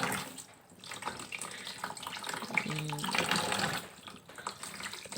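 Tap water runs steadily into a sink while tilapia fish are washed, a continuous splashing stream with small shifts in flow and no speech.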